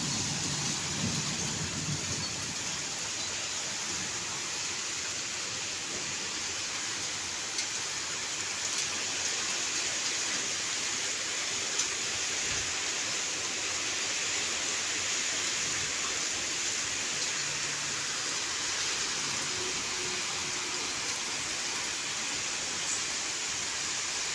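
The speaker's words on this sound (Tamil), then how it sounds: "நல்லா பெரிய மழையாக பெய்யுது" Heavy rain pours steadily on an evening in France, a dense continuous hiss with faint low rumbles beneath, even and unbroken throughout with no voices.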